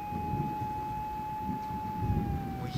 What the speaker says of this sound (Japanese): もう警察のこうピーポー音、